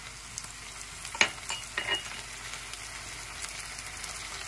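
Ginger garlic paste goes into onions that have fried about two minutes for chicken kosha, giving a soft, fairly quiet sizzle with a few brief clatters of stirring early on.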